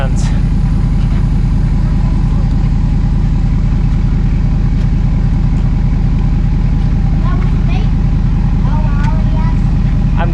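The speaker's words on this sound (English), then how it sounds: "what I'm going to do first is crank the engine," A 21 ft boat's engine runs at a boat ramp, a loud steady low rumble that continues without a break, with faint higher clicks and noises scattered over it.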